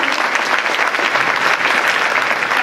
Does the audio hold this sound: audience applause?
yes